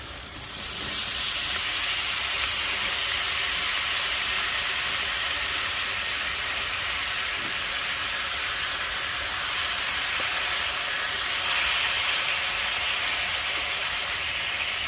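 Steak and pieces of stir fry sizzle in a pan on a hot tent stove, producing a loud, unbroken hiss that holds steady for the whole stretch, with no voices.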